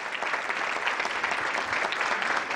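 Audience applause at a dinner event, a dense, even roar of many hands clapping that holds steady throughout, with no voices standing out.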